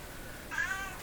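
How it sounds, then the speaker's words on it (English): A single faint cat meow, brief and somewhat distant, rises over a steady background hum from a Sparton Model 5049 radio with spurious oscillation. "Did I hear a cat meowing?"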